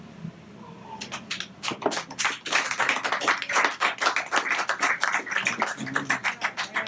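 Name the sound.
audience clapping after poem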